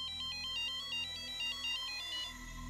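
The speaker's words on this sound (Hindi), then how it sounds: "फोन आ गया।" A phone ringtone chimes in a quick repeating electronic pattern, fairly faint, with no voices around it.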